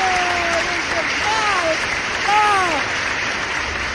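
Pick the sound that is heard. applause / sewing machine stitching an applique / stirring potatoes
applause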